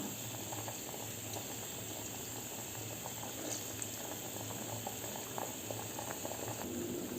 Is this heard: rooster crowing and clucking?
no